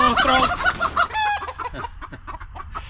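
Silkie chickens in an outdoor coop cluck and call in a burst of loud, close hen vocalizations, then a softer run of scattered clucks continues.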